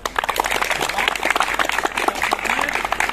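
A group claps together at the close of a school physical education session, a steady, even patter of many hands at moderate distance, with faint voices underneath.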